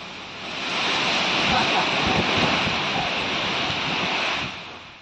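Strong wind with rain in coastal Gujarat, a loud continuous broadband roar that swells and holds steady for several seconds, wind buffeting the microphone.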